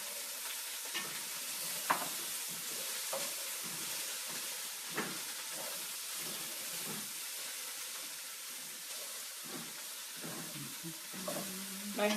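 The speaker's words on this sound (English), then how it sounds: "we're going to throw the leeks and the onions in, or the garlic, excuse me. Stir all this up" Leeks, onions and garlic sizzle in a soup pot as they are stirred, a continuous soft hiss with scattered scraping and knocking from the spoon, fairly quiet and close.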